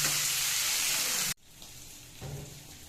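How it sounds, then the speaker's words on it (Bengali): Shrimp coated in salt and turmeric with a green chili sizzle loudly in hot oil in a pan, a steady bright hiss that cuts off abruptly, then a quieter frying crackle continues. "চিংড়ি মাছগুলোকে ভালো করে ভেজে নেবে"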